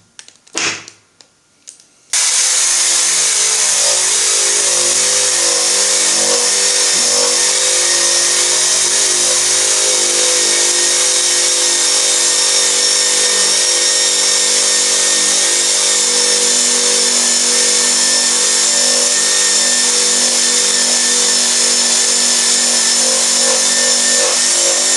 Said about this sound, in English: So that's pretty good in a pistol drill.